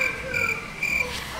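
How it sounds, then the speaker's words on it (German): A green frog at the Wilhelma zoo in Stuttgart gives two short, high, trilling calls in steady ambient noise, fairly near, with no voices. "Richtig, ein Frosch."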